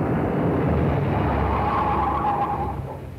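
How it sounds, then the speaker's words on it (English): A car approaches with a steady broadband engine and tire rumble that holds loud and close throughout, easing slightly at the end, with no talk over it. "Hey, that's Jimmy's car there."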